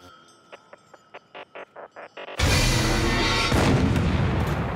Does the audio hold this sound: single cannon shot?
yes